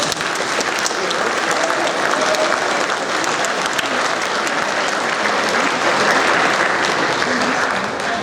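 A school audience gives eighth-grade award students a long round of applause, loud even clapping that holds steady throughout.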